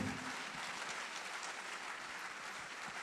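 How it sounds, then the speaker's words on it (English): Applause from an audience at the 15th MTN Pulse Transform Summit, a faint, distant, steady wash of clapping that carries on evenly without pause. "Oh, let's clap for Kweku."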